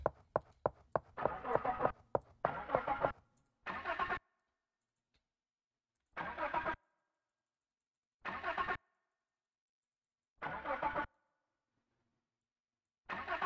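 A car engine in a video game cranks in repeated short bursts, a rapid flurry at first and then evenly spaced attempts separated by silence, never catching.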